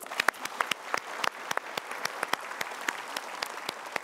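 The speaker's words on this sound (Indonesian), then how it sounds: "Ya, kita berikan tepuk tangan dulu." Studio audience applause at a motivational talk show, moderately loud, with distinct sharp claps punctuating a steady patter, no voices over it.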